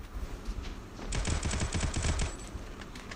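Automatic gunfire in the Free Fire video game plays as a fairly faint flurry of rapid shots for just over a second mid-clip, over a quiet background hum.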